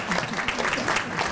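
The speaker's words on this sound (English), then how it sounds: "That's a round of applause." Applause from the audience at a Department of Correction and Rehabilitation awards ceremony, a dense patter of many hands clapping at steady volume throughout the short stretch.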